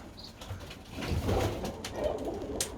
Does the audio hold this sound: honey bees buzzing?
no